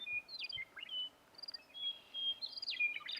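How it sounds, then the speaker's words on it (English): Red-winged blackbird calling outdoors in Hell's Canyon, with thin high trills and chirps repeated in short bursts at moderate distance over faint background noise. "Red-winged blackbird out there."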